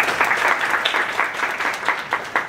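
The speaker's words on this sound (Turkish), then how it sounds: "Fırat'ı bir alkışlayın arkadaşlar." A classroom group of friends applauds Fırat in a loud, close burst of many hands clapping together. The clapping stays continuous and steady over a couple of seconds with no one speaking.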